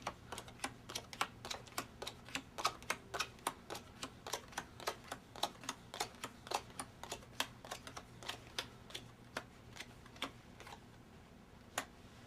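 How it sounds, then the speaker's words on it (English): Playing cards are dealt onto a table one by one in a steady series of crisp, close taps, quiet and evenly paced, with no talking. "I'm going to deal these cards out again onto the table."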